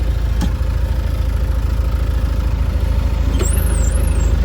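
A tractor engine idles with a steady, low, even rumble, joined by a couple of brief sharp clicks and a short warbling electronic tone near the end.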